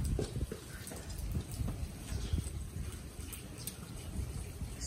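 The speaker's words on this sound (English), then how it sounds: "Ayan, lakas ng ulan." Heavy rain pours down on a flooded backyard as darkness gathers, a dense steady hiss with scattered spattering drops, loud and continuous throughout without talk.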